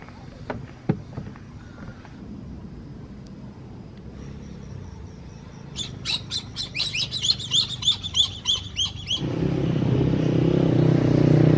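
Birds call around a forest lake near the village of El Remate, Guatemala, a run of sharp, rapid squawks and chirps in the middle, over quiet ambience that gives way to a louder rumble at the end.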